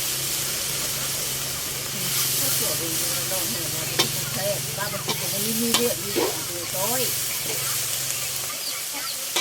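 Cicadas with their wings removed roast in a pot, giving a steady hiss and sizzle with scraping stirs, while people talk intermittently over it.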